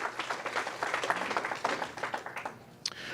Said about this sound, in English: Let's let that be all the applause you give after this opening here.